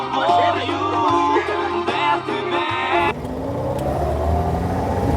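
A car engine revs, its pitch climbing steadily after a brief stretch of other busy sound, fairly loud and close.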